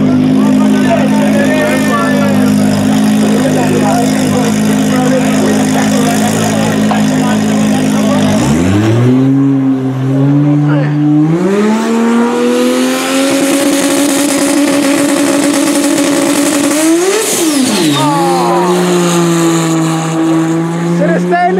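Race cars competing in a world cup final, a loud steady engine drone that shifts pitch as cars rev and pass, with a sharp swell near the end, heard under continuous commentary.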